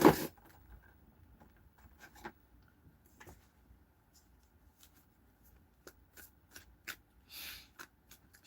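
A deck of cards is shuffled close up in a quiet room, soft riffling flutters and scattered taps and flicks spread over several seconds, faint overall with a few sharper bursts.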